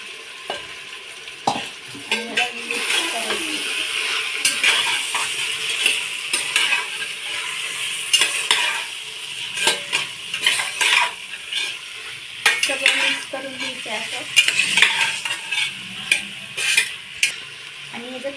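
Loud sizzling from a hot pan of chicken frying with spice masala while a utensil repeatedly scrapes and clatters as it is stirred, with no talking.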